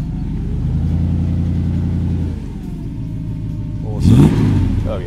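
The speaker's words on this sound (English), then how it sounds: "Go around to the back, here to the exhaust," Exhaust of a Triumph Stag V8 heard up close from the rear, a deep steady burble that drops off midway, then a sudden louder rev with a short voice over it.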